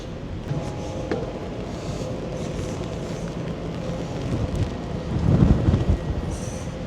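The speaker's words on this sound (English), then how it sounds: "Far too wet, far too windy." Steady, heavy rush of rain and gusting wind on the upper deck of an overnight ferry from Harwich to Rotterdam, a dense broadband roar that swells louder near the end, with no voices.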